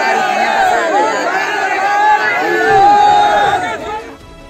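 Dense crowd hubbub from a huge gathering welcoming Bageshwar Maharaj during a kalash yatra in Bina, Sagar: steady overlapping chatter and voices at close range, continuous throughout and thinning slightly at the end.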